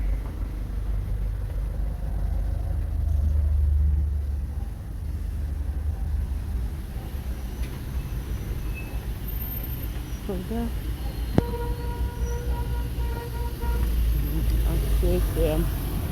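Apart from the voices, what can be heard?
heavy street traffic of passing cars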